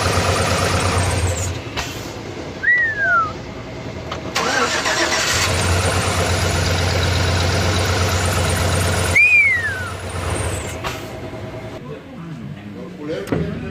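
A Chevy 5.3 V8 cranks and catches, then settles into a steady mid-pitched idle with a couple of rising whistle-like chirps. Voices talk over the engine.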